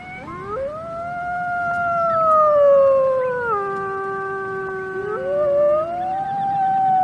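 A wolf pack howls together in a chorus, several long rising and sliding voices overlapping in harmony, loud and sustained throughout with no talk.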